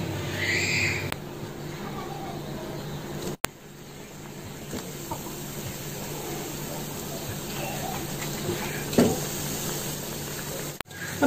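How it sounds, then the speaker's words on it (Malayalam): Chicken spring rolls fry in hot oil with a steady, even sizzle and hiss, broken by a couple of sharp clicks and a brief bubbling flare near the end. "ഇനി ഇതിലേക്ക് ഈ റോൾസ് ഓരോന്നായിട്ട് ഇട്ട് നമുക്ക് ഫ്രൈ ചെയ്തെടുക്കാം"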